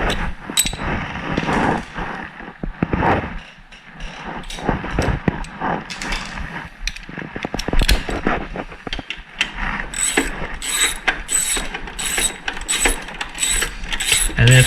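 Twelve-millimeter bolts are run back onto a Honda HRX217 lawn mower with a ratchet during a belt replacement, producing dense, close metallic clicking and clattering that ends in a run of evenly spaced ratchet bursts.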